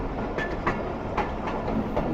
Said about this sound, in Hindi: आराम से उछलती कूदती ट्रेन हमारी तक बढ़ रही है लाड़काना की तरफ